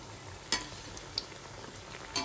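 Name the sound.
coconut karanji frying in ghee or oil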